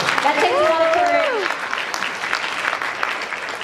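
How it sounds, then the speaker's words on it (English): Applause from a convention panel audience, a dense wash of clapping that starts full and slowly thins out, with a brief voice-like tone near the start. "let's give her a round of applause"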